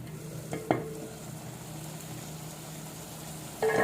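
Stuffed brinjals cook in oil in a covered pan over a medium flame, a soft, steady sizzle heard close, broken by a couple of sharp clinks early on and a louder scrape at the end.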